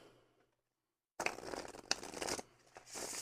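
Tarot cards are shuffled by hand in several close, crisp riffling bursts of paper rustle and flutter, with brief pauses between them and no talking.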